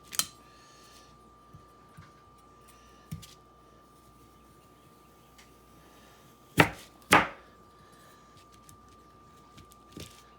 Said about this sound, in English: First we're going to start by dicing up our sweet potatoes.